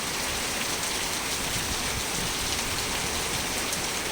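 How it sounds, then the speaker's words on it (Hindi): A downpour in Jammu drums steadily and loudly on nearby surfaces, a thick, continuous hiss of falling water heard on its own. "बहुत ही जोर से बारिश, बहुत ही ज़्यादा।"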